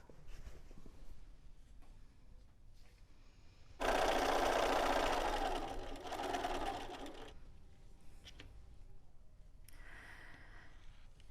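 A sewing machine stitches bright quilt strips in one loud, fast, continuous run of a few seconds, framed by quieter handling noises before and after.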